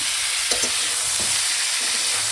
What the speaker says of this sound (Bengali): কপিটা ভেজে নিচ্ছি, তারপরে মশলা দিয়ে কষাবো।